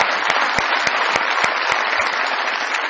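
A studio audience at a Pakistani comedy talk show bursts into dense, loud applause with sharp individual claps cracking through, sustained evenly for a few seconds.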